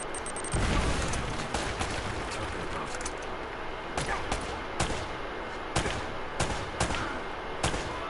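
Gunfire in the video game Uncharted: Drake's Fortune crackles in bursts and single loud shots, spaced irregularly over a steady background of game noise.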